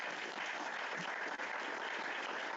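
Dense, sustained audience applause at an evening meetup on DORA and cybersecurity in financial services, even and continuous clapping without a break.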